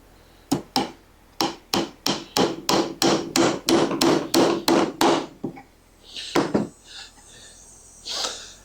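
A hammer drives a long nail into a wooden bluebird nesting box with about a dozen steady, evenly spaced blows, then pauses before a few final heavier strikes and a short scrape.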